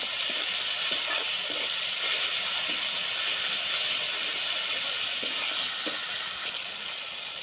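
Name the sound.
ginger garlic dry chilli paste sizzling with fried onions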